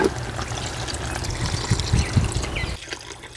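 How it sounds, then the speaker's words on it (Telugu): Half a liter of water poured into a cooking pot of pumpkin and dal mixture, a steady close splashing pour for under three seconds that cuts off abruptly, leaving near quiet. "ఇది ఒక్కసారి ఇలా కలుపుకొని 1/2 లీటర్ నీళ్ళు పోసుకుందాం."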